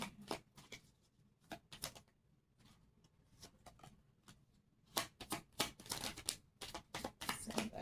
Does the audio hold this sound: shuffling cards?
yes